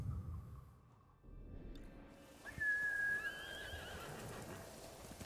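A horse in the video game Ghost of Tsushima gives a loud, close whinny that rises and trails off, amid soft outdoor ambience and faint hoof movement.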